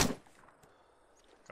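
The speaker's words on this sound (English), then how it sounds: "Engaging the gunner." A single gunshot from an ArmA 3 firefight against an enemy gunner cracks sharply at the start, then fades into a quiet tail, with a faint click and another shot at the end.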